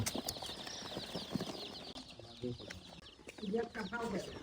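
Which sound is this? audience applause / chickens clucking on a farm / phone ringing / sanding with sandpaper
chickens clucking on a farm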